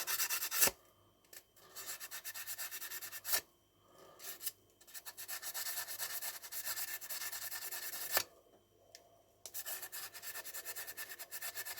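Worn 600-grit sandpaper rubs against a metal trigger part for an EEMANN P120, in close, quiet rasping strokes broken by several short pauses.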